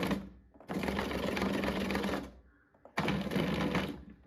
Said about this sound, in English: We're going to try and run the food processor.